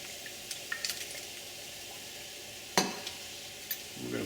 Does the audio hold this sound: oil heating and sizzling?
yes